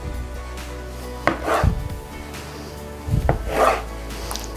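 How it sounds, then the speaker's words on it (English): A knife cuts the stem off a tomato on a board for pico de gallo, two clear chopping and scraping strokes a couple of seconds apart over a low steady hum, no talking. "I'm just taking the stem part off."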